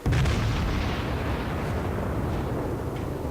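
Main guns of the Fuso, a tier 6 Japanese battleship in World of Warships, firing as one heavy salvo: a loud deep boom at the start followed by a long rumbling roar that slowly fades.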